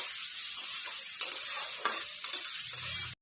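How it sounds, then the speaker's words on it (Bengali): Chopped onions fry in hot oil with a steady, close sizzle, while a utensil stirs through them in soft, irregular scrapes. "পেঁয়াজটাকে ভেজে নেব।"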